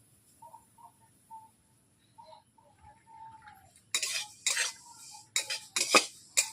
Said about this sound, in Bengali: বন্ধুরা দেখতেই পাচ্ছেন আমি এইভাবে তিলগুলোকে নেড়ে নিচ্ছি ঘন ঘন করে।